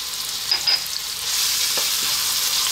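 Chopped onion and garlic fry in a pan for a vegetable tomato pasta, a soft steady sizzle with a few scraping stirs near the start and a brighter hiss building toward the end.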